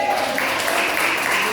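A Portuguese-speaking church congregation claps during a Sunday family service, continuous dense applause mixed with voices throughout.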